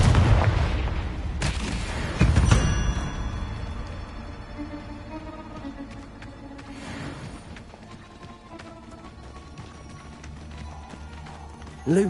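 Confringo blasting spell explosions in a Harry Potter video game, a couple of loud booms early on that fade into a ringing, echoing tail, with a softer blast afterward and another sharp hit at the very end.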